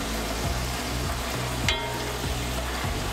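Puri deep-frying in grapeseed oil, a steady close sizzle and bubbling throughout, with faint periodic low thumps beneath and a single brief clink midway.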